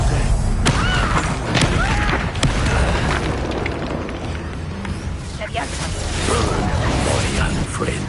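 A Confringo blast spell fires in Hogwarts Legacy amid a loud, dense wash of booming combat effects and rumbling explosions. A voice shouts over the continuous din.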